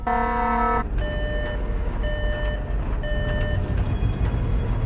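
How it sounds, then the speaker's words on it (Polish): An electronic alarm in an animation beeps in a slow, repeating pattern of long tones over a rumbling low background, with no speech. "Uruchomić alarm!"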